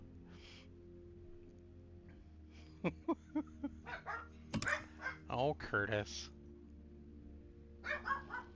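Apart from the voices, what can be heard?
pet dog barking, likely at the mailman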